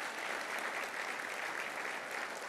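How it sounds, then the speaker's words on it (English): Applause from an audience at a political speech in Texas, a steady dense clapping that holds evenly throughout at moderate distance, with no voices over it. "how about another round of applause for him"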